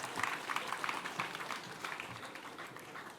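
A large audience at a university graduation congregation applauds the Honorable Minister, a dense, steady wash of many hands clapping that fills the room and fades slightly toward the end.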